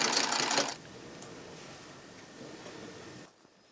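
A Victorian-era sewing machine runs at a farm in springtime, a loud dense whirring burst for under a second, then a quieter steady mechanical hum that fades out, with no voices.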